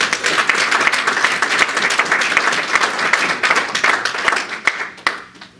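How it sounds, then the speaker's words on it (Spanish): Church congregation clapping together in praise, a loud, dense round of applause with sharp individual claps standing out, sustained for several seconds before fading out. "¿Cuánto le da un aplauso al Señor?"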